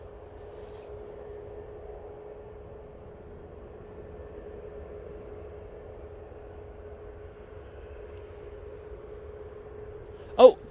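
An Aer Lingus airliner taxis out at Manchester Airport for a short flight to Bordeaux, giving a faint, steady distant engine hum with a low tonal drone, ending in one sharp knock.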